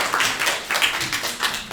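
A studio audience at an Azerbaijani comedy show claps to welcome a performer named Rıza, with close, uneven bursts of handclaps pulsing for just under two seconds and no talk over them.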